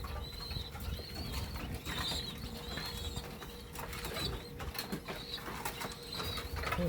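Pigeons kept in a backyard coop alongside king quail give soft cooing calls over a steady hum of birds and faint rustling, with no talking.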